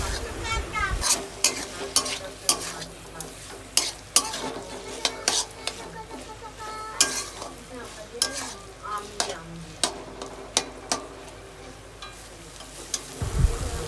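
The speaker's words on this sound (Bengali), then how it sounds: "ভেজে রাখা চিংড়ি মাছগুলো এর মধ্যে দিয়ে দিলাম, দিয়ে ভালো করে নেড়ে নেব।" Fried shrimp being stirred with kochur loti (taro stolons) in a pan, a steady sizzle under repeated scraping and clinking strokes of a spoon against the pan, close and alone.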